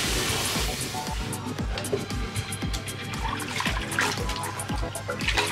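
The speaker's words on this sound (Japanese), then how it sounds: "もう一回水を張り直します" A salon basin being refilled with running water during a hair-washing and colour treatment, a steady close splashing stream with rhythmic low thumps and dripping throughout.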